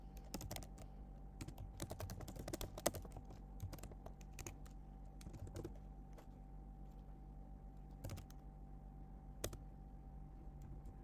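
Rapid, close clicking of a computer keyboard while a Java class name is typed, bursts of keystrokes with brief pauses over a faint steady hum.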